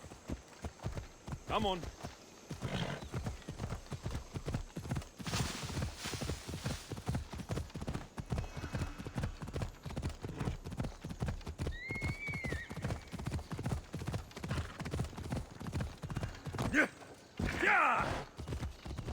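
A horse galloping in Assassin's Creed Odyssey: rapid rhythmic hoofbeats pound on steadily throughout, with a couple of whinnies, and someone talks briefly over the ride.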